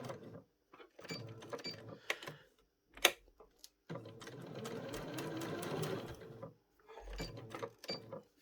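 A sewing machine stitches a straight running stitch through double-layered felt applique with white thread, running in close bursts with short pauses and one longer continuous run.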